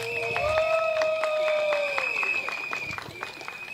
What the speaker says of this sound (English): One more round of applause for Martin, please.